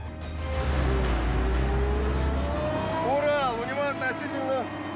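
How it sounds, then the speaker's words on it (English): A Ural truck fitted with a crane labours over a sand dune during an off-road shakedown race, its loud engine drone steady beneath a commentator's voice, with rising whining tones near the end. "the Ural with a crane crawls over a sand dune and keeps going."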